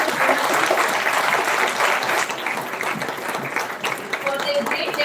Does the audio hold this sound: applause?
yes